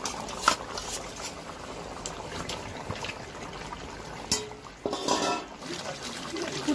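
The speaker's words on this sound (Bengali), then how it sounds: "20 মিনিট অবধি এটা সেদ্ধ হবে" A covered pot of mutton for biryani simmers and boils, with close bubbling, gurgling and sputtering. Scattered pops and louder bursts of liquid come through a steady hiss.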